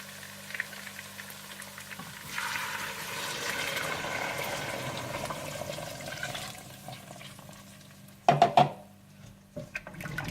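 Stock and water are poured over browned meat in a cooking pot for an Afghani pulao, producing a steady rushing pour over several seconds that is followed by a few louder clattering knocks near the end. No voices.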